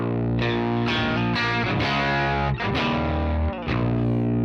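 Heavily distorted electric guitar tuned down to B chugging low, thick notes through a fuzzy Fender Brownface-style amp tone, loud and sustained with a few brief breaks, no voices.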